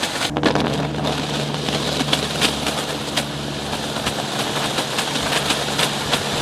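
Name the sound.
air compressor refilling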